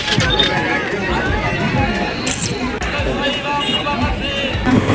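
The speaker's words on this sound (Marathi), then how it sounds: "हे बघा किती मोठी यात्रा आहे सगळीकडं गर्दी पण खूप आहे" Dense crowd noise at a large Ganpati festival fair, with a steady babble of many voices and footsteps all around, nearby people talking throughout.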